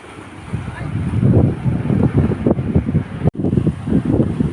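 Wind and sea water against the rocks near Benagil cave on Portugal's coast: a loud, continuous roar of surf and gusting wind buffeting the microphone, with a brief dropout partway through.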